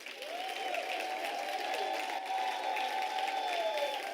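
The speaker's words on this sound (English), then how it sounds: "Can I request a round of applause?" A crowd at a university autumn graduation ceremony in South Africa applauds and cheers, a steady, fairly soft wash of clapping with a wavering high-pitched voice carrying over it throughout.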